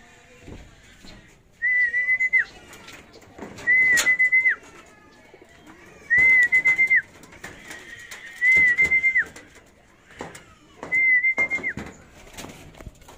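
A racing pigeon gives five evenly spaced, whistling calls, each about a second long, close by against a quiet background with occasional soft knocks.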